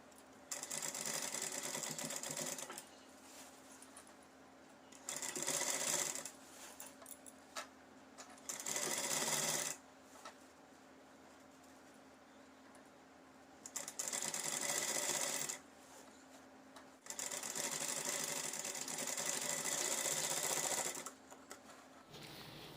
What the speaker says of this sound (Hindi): और उसके बाद इस पर सिलाई लगाएंगे